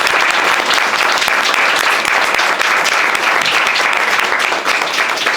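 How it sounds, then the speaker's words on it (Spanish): Dense, steady audience applause from a large crowd at a Spanish-language talk on Europe's energy transition and pollution in Latin America, a continuous loud wash of many clapping hands with no pauses. "Así que primero un aplauso a los compañeros."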